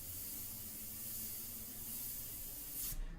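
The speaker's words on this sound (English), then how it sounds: "just getting my airbrush in shape here. Just calibrating." Airbrush loaded with India ink spraying in a steady soft hiss during calibration, continuous and close, cutting off sharply at the end.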